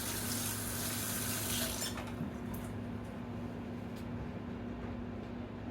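Tap water runs briefly over hands in a kitchen sink: a close, steady splashing rush for about two seconds that then cuts off, leaving quiet room tone with a few small clicks.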